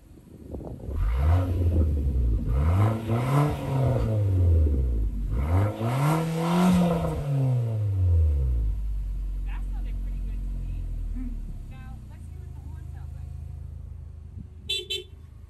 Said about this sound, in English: we're going to show you the exhaust in just a second